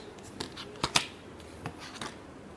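Tarot cards shuffled by hand at close range, a few soft riffling slaps and flicks with two sharper snaps near the middle, quiet between, no voices.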